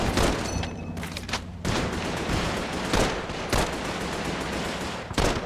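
A machine gun in Call of Duty 3 fires in repeated loud, close bursts, with short staccato volleys separated by brief gaps and overlapping distant gunfire.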